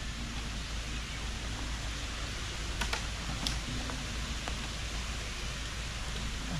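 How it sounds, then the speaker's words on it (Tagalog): Steady rain pours down around workers hanging a net outdoors, a constant hiss that fills the whole clip with a few sharper drop ticks standing out near the middle. "Ayan naman ang malintik na ulan na ito."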